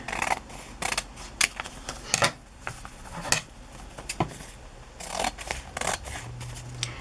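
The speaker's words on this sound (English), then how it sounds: "it amazes me how loud the scissors and the paper cutting" Scissors snipping through paper in quick irregular bursts while making envelopes and pockets, close and crisp, with short pauses between cuts and no talking.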